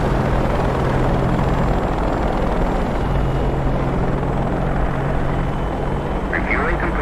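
An AH-64D Apache helicopter in the DCS World flight simulator gives a loud, constant rotor and turbine drone with low rhythmic blade thumping, steady throughout.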